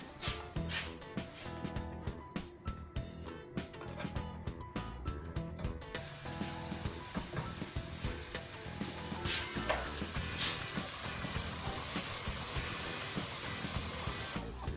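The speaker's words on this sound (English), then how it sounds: "And I am gonna fry the sausage patties." Sausage patties fry in oil in a roughly 29-centimetre pan, a steady soft sizzle under rhythmic kitchen clatter that grows into continuous hissing spatter.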